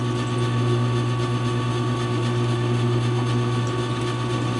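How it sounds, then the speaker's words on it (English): A drill press hums steadily with a constant motor whine and faint mechanical rattling, running on its own without any talking. "I'm going to go ahead and turn the drill press back on again"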